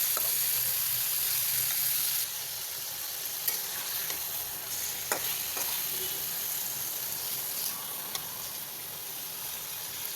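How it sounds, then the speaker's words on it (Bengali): Chicken meat stirred in a pan with browned onions, frying with a steady sizzle and hiss throughout and a few scraping stir strokes, close and fairly loud with no talk. "এখন মাংসগুলো ভালোভাবে নেড়ে দেব।"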